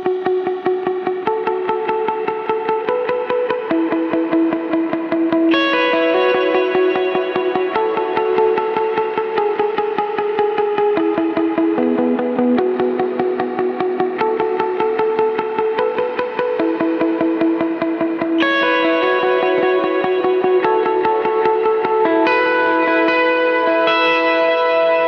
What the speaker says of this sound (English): I switch over to a different delay and reverb, and the part goes like this